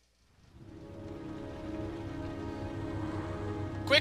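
Steady rain falls in the video game Heavy Rain, a dense, even hiss with a low rumbling bed that swells in after a quiet start and holds near and continuous, with a brief brighter splash at the very end.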